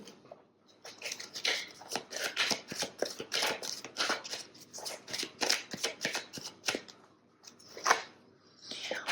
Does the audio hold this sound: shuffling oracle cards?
yes